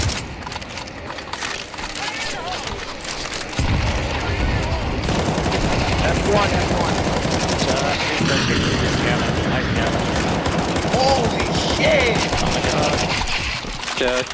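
Rapid automatic gunfire in Counter-Strike 2 zombie escape on the ze_8bit map, dense continuous shooting from several weapons that grows louder and fuller midway, with players talking over it.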